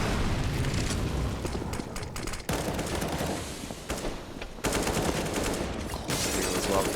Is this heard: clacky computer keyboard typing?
no